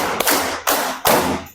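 Hands clapping in a counted classroom clap pattern: four crisp, close claps spaced evenly and quickly, each with a short decay, heard alone without talk.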